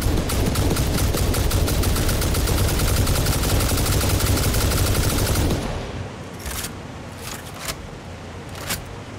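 Rapid sustained machine-gun fire from a gun in the video game Satisfactory roars loud and steady for about five seconds, then stops, leaving a few sharp isolated shots and quieter background.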